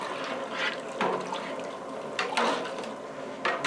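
Water pours into a batch of mango seltzer to bring it up to about 5.5 gallons, a steady rushing fill with a few louder surges, close by and with no talk.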